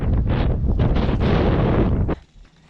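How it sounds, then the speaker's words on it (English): Strong wind on a hilltop overlook at Possum Kingdom State Park in Texas buffets the microphone with a steady, loud roar that drops away sharply near the end. "It's kind of windy up here."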